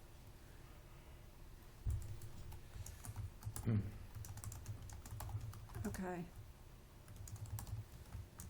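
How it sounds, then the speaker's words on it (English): Soft computer keyboard typing clicks along under the room noise of a farm board of directors meeting, with a brief spoken word. "I'm just typing up a formal motion here as we speak"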